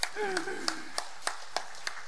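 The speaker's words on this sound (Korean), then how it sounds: "우리 하나님께 영광의 박수 올립시다" Congregation in a church sermon clapping together in praise to God: a short burst as a voice speaks, then a run of even, rhythmic unison claps at a steady beat, moderately loud and roomy.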